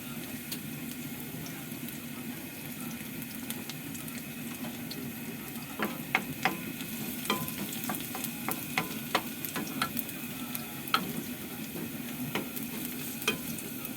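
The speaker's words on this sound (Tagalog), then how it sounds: "Gigisa tayo ng gulay." Vegetables with onion sautéed in a hot pan for a Filipino ginisang gulay: a steady, close sizzle of frying, with a burst of sharp stirring clicks and scrapes from the utensil in the second half, and no talking.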